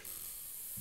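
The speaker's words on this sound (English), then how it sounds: "Spraying champagne with our champagne gun" A champagne gun sprays champagne in a steady, close, bright hissing spurt that runs the whole moment, with a brief low thump near the end.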